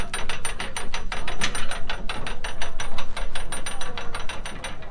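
Ratcheting hand crank winch on a 1929 Model A tow truck with no hydraulics, a steady run of sharp metallic pawl clicks in even rhythm, close and loud, with no voices.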